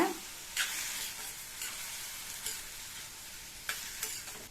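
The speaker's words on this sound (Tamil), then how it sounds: "இந்த தக்காளியை ஹை ஃப்ளேமில் வச்சு 2 நிமிஷம் நல்லா வதக்கிக்கோங்க" Tomatoes sauté in a pan on high flame with a soft, even sizzle, broken by a few light stirring scrapes and taps, quiet and close with no voices.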